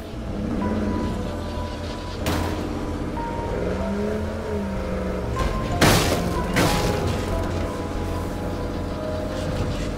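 Cars in the State of Decay 2 video game crash with two sharp impact bangs over a constant engine drone, loud and close, with no talking.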